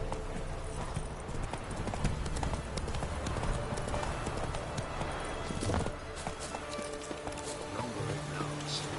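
Roach, a horse in the Witcher 3 video game, gallops with rapid, steady clip-clop hoofbeats over a dense, continuous game soundscape for the whole stretch.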